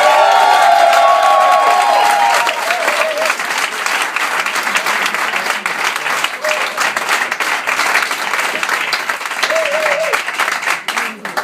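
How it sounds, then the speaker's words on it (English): A comedy club audience in Munich breaks into loud, sustained applause with some cheering. The clapping stays dense and steady throughout, then thins slightly toward the end. "Please give a round of applause for Mr."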